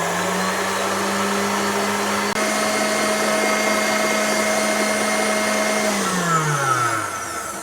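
Electric hand mixer whipping cold double cream to peaks for an Eton mess, a steady loud motor whine with a constant hum that drops in pitch as it slows near the end, no talking.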